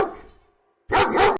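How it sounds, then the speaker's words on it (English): A dog barks once, loud and close, after a fading whine or growl and a brief pause. "dog"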